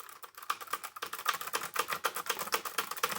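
Rapid typing on a keyboard up close at a FlexiSpot E6 standing desk, with quick, uneven key clicks and no voices.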